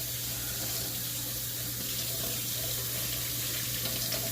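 Hot water runs steadily from a tap over brushes, a continuous even splashing rush with a low hum beneath it, no talk.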